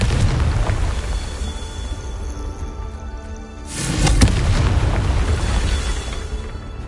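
Confringo blasting spell explosion in Hogwarts Legacy, a single booming burst over a steady rumbling background, with no talking.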